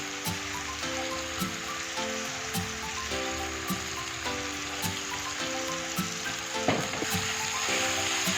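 Chopped spring onion greens fry in a pan for an egg Wai Wai noodle dish, giving a steady close sizzle with faint regular clicks and steady background music beneath.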